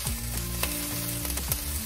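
Onions frying in a pan for a burrito, with steady close sizzling and a few sharp clatters as they are stirred, plus a low tonal hum running underneath.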